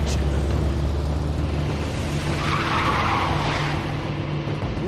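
A limousine skids away in The Wolf Among Us game, a sustained broadband tire rush and engine rumble lasting several seconds at steady loudness, with no voice over it.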